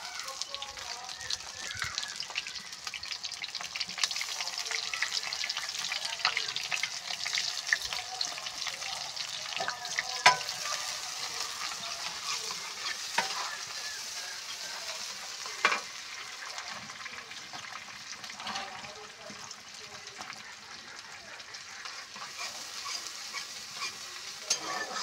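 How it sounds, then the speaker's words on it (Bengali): Onions frying in hot oil in a wok, ready for beef to be cooked down, give a continuous close sizzle with scattered crackles and spatula clicks throughout, while a person talks at times. "পেঁয়াজটা ভাজা ভাজা হয়ে গিয়েছে"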